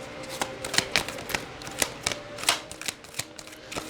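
Cards slide and flick against each other as one is worked out of a thick-stock tarot deck, a run of close, crisp papery snaps and rustles in an irregular rhythm, with no talking.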